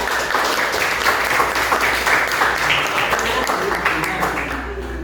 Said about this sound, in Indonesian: beri tepuk tangan meriah ya, anak-anak kelompok 2 ya